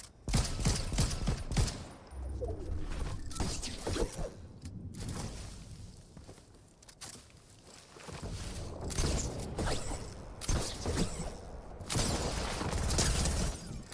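Rapid bursts of P90 submachine gun fire from the video game Fortnite rattle in repeated volleys across the whole stretch, loud and dense, with brief whooshes between strings of shots.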